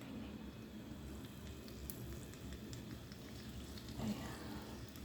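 Zucchini sizzles softly in a hot pan, a steady crackling hiss with faint pops, heard quietly and alone.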